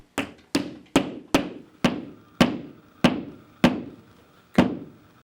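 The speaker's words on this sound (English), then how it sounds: "Then tap the supplied anchors into the holes drilled." Wall anchors tapped with a hammer into drilled holes while mounting a two-piece whiteboard: nine sharp, evenly spaced knocks at a steady rhythm, close and clear with no talking.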